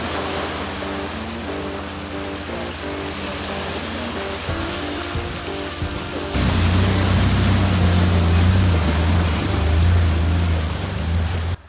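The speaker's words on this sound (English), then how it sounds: "Our next water crossing was actually pretty short, but at the end was really deep." A Jeep TJ on an Ozarks overlanding trail crossing deep water: a steady engine drone gives way midway to a loud, sustained surge of churning, splashing water as the vehicle plunges in.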